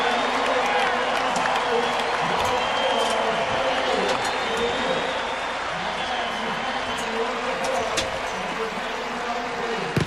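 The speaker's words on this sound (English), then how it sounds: "the crowd beginning to stand and applaud here at the Orange Bowl Stadium" Big stadium crowd at the Orange Bowl applauding and cheering near the end of a Miami Hurricanes versus Boston College college football game, a broad continuous roar with distant clapping and some voices.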